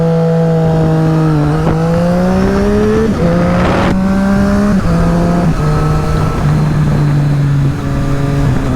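A Triumph Street Triple RS motorcycle pulls away hard, its engine note climbing in pitch through several upshifts, each marked by a brief dip before revving up again, loud and close with wind noise around it.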